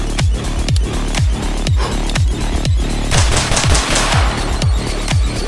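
Rapid strings of close, loud shots from a Staccato XC pistol and an LWRC A5 rifle fired in drill cadence, evenly spaced sharp cracks with ringing echoes.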